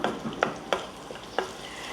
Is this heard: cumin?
yes